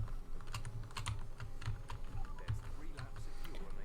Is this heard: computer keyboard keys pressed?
yes